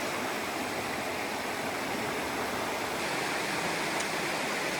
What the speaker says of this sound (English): I think this might be where we have to get in this river here